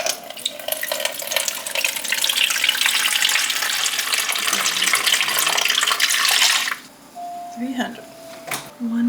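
Water from a tap runs steadily into a bowl for sourdough baking, a loud continuous rush that stops abruptly partway through, followed by a few faint clinks and light kitchen handling.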